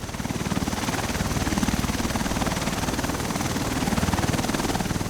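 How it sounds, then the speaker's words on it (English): A Marine Corps helicopter powering up and taxiing, a loud, close rotor chop beating in a fast, even rhythm over a dense turbine roar that holds steady throughout. "we got them repowering up the aircraft and taxiing out to keep flying"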